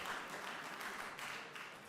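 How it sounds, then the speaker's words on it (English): Applause from the audience at a spring town meeting fills the space as a steady, fairly soft wash of clapping that holds for about two seconds. "He deserves a round of applause for that."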